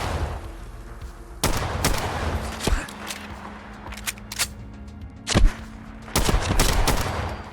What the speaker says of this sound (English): It's crazy there was no 1911 type handgun, but now we've got one, and it looks and sounds awesome.